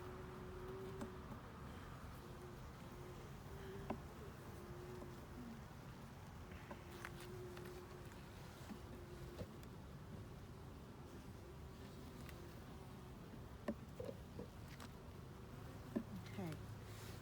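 Bees buzz around a backyard beehive in Portsmouth, NH, a continuous soft droning hum with individual insects passing close now and then, and a person talks quietly at times.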